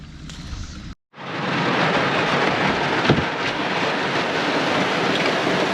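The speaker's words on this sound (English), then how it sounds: "It's raining again, Farmer Chris." Rain falls on an open farm field as a steady, dense hiss after a brief silent gap, with a few louder spatters standing out.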